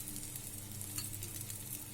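Two slices of ginger frying in a hot wok, a steady close sizzle with faint stirring and no talking.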